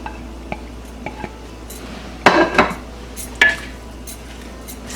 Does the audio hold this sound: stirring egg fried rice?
yes